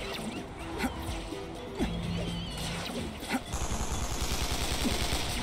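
Bursts of rapid gunfire in the video game Spider-Man: Shattered Dimensions crackle in a busy, noisy mix, with sharp shots scattered throughout and a denser rattle toward the end.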